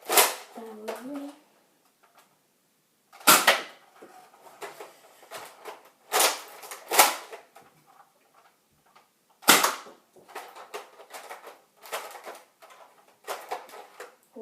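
Nerf toy gun being loaded and fired, a series of sharp plastic snaps and clacks in separate bursts with short pauses between, close and fairly loud, with rattling handling noise in between.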